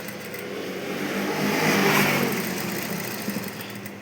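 A sewing machine stitches fabric with a steady, continuous motor whir that swells slightly midway and stays fairly loud throughout, with no voices.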